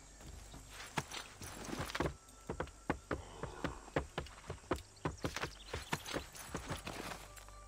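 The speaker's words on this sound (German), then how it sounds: "Wir können ja das Pferd hier nehmen." Steady clip-clop of a horse's hooves in the video game Assassin's Creed III at a quick, rhythmic pace, close and fairly loud, with some rustling and creaking mixed in.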